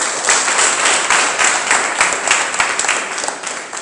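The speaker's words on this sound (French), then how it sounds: "Voilà, acclamez-le." An audience at a celebration gathering claps and applauds, a dense steady patter of many hands, loud and close throughout.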